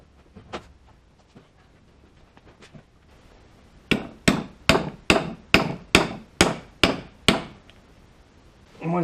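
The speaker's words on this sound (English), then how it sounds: "I just gotta get an extension and hammer." A hammer drives a shaft seal into an Arctic Cat water pump, pressed with a 9/16 socket on an extension: eight sharp, evenly spaced metallic strikes, close and loud, following softer tapping.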